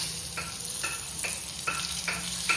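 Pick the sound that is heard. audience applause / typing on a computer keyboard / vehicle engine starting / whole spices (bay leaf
whole spices (bay leaf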